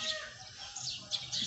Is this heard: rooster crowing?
yes